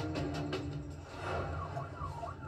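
A police car siren wails in rising and falling sweeps over a steady low engine rumble, moderately loud and fairly close.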